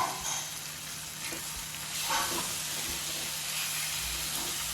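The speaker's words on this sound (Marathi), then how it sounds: "तर हा मसाला छान असा तळून घ्या तेल सुटेपर्यंत" Tomato masala paste frying in oil in a pan, a steady low sizzle and hiss with faint stirring movements, close and moderately quiet without talk.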